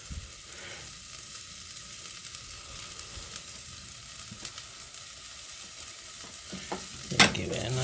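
A pot of chunky vegetable soup with rosemary stirred over heat: a soft, even sizzle runs throughout, and a sudden louder scrape and clatter of the spoon comes near the end, with no talking.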